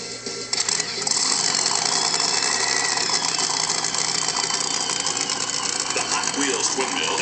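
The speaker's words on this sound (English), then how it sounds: "Jenna, fire up engine number 1." A supercharged, fuel-injected full-house Hemi engine in the Hot Wheels Twin Mill show car fires up at a car show, then runs loudly and steadily with a rough mechanical clatter.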